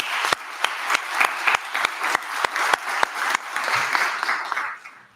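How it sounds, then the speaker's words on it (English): Audience at a college spring honors convocation applauding students, steady mid-distance clapping with a few sharp isolated claps standing out, tapering off near the end. "Can we give our students a round of applause?"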